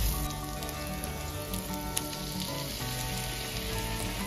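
Fried chicken sizzles in a pan with soy sauce and ketchup, a steady soft crackle and hiss throughout, fairly close and even, with no voices.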